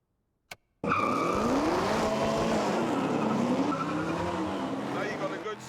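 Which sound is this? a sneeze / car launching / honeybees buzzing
car launching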